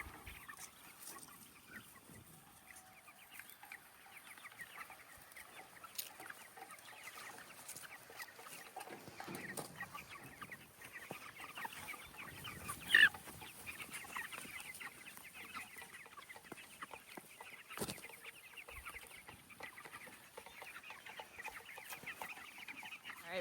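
Chickens clucking on pasture within a fence, scattered soft clucks and calls at moderate distance over a quiet outdoor background, with one louder squawk midway.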